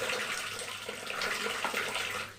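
Water from a rinsed bowl poured into a pan of chicken kosha with yogurt, a steady splashing, gurgling flow at moderate loudness, heard alone without talk.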